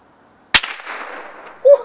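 A single sharp shot from a break-barrel air gun loaded with Crosman dome pellets, a close crack that decays into a short rumble, followed by a brief tonal sound.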